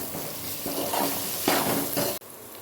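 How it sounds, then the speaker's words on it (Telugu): Ginger garlic paste and soya chunks frying in a pan, with a steady sizzle broken by a few scraping stirs and a sharp clink of a utensil near the end. "ఇప్పుడు దీన్ని పచ్చివాసన పోయేదాకా ఫ్రై చేసుకోవాలి."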